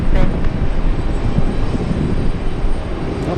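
An airliner taxies at JFK airport, its engines a loud, broad rumbling roar heard up close and holding steady without a break.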